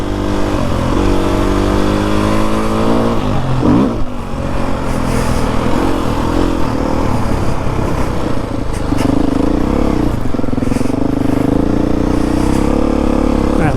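A Beta 430 dirt bike engine revs and accelerates loudly up close, its pitch climbing and dropping through several throttle bursts as the bike pulls away at a motopark demo day.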